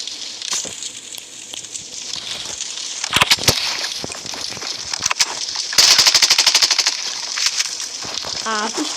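Gunfire in the Blood Strike shooting game, with scattered single shots and then a rapid run of loud pistol-type bursts around the middle, over constant game ambience while a person talks.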